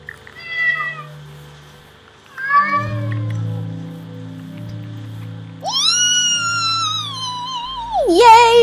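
Cartoonish cat meowing in a video game, several distinct meows of varying pitch spread across the clip over quiet background game music, with a final higher, drawn-out mew.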